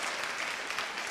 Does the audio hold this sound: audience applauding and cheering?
yes